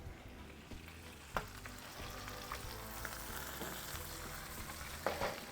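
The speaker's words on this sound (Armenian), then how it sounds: "Հիմա, քանի որ արդեն լորը գրեթե տապակված է, ավելացնում եմ սոխը։" Quail frying in a pan with onion about to be added, a steady low crackling sizzle with a few sharper pops, moderately quiet and without speech.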